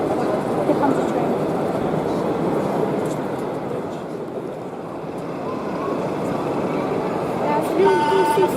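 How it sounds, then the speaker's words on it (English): A steady low rumble of a passing model train, loud and continuous, with faint squeals near the end. "Here comes a train."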